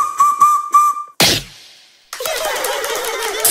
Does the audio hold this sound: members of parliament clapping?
no